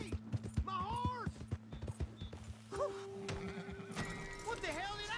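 In a Red Dead Redemption 2 scene, a horse whinnies loudly and its hooves clip-clop in quick bursts nearby, with voices speaking over the commotion.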